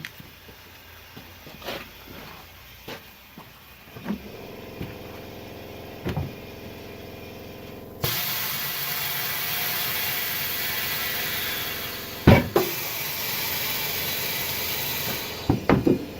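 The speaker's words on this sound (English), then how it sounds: "I'm going to come over here and break the tire, the back side bead." Breaking the back side bead of a tire off its rim produces scattered metallic clunks and heavy thumps. A steady hiss runs through the second half, with a couple of sharp bangs near the end, close and otherwise quiet.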